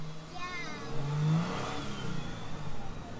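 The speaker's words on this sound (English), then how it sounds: "We're showing them what it sounds like. We're revving it." A 2022 Toyota Tundra TRD Pro with the iForce Max engine revving up in a rising whir that peaks and settles, close by, with voices of an adult and someone talking over it.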